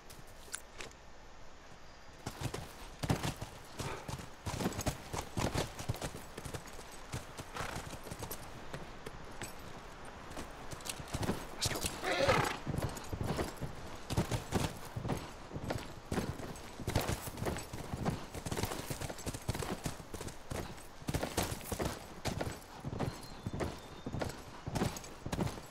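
Horses walking in The Last of Us video game, a steady run of hoof clip-clops close by, with a brief whinny near the middle over a quiet outdoor background.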